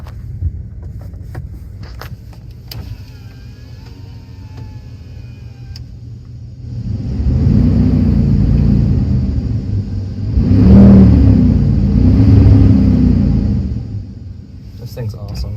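A 2000-2004 Dodge Dakota pickup drives along with a low road rumble, then its engine swells into two rising accelerations, heard from inside the cab and fairly loud.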